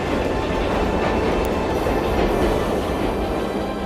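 A train runs along a long trunk railway line across desert and mountain country, giving a steady, dense rumble with faint clicking from the wheels on the rails, loud and continuous throughout.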